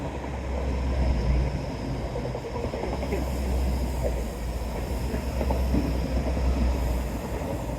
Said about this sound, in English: Yay, final train.